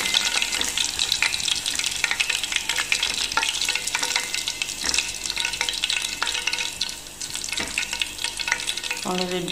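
Tuna samosas fry in hot oil, a dense continuous sizzle and crackle with occasional stirring clinks, close and steady throughout, with no talking.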